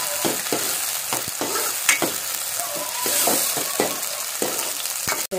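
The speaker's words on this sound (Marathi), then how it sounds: "2 मिनिटं टोमॅटो परतून घेऊया." Tomatoes sautéing with browned onion in a pan for a village-style ridge gourd sambar: a steady close sizzle with repeated scraping stirs of a spoon against the pan throughout, no talking.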